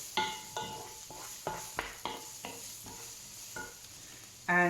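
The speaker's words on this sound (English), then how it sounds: "Keep stirring my onions." Onions frying in a pan for a Spanish omelette or frittata hiss softly while a utensil stirs them in a series of regular scraping strokes and taps against the pan, ending in a louder clatter.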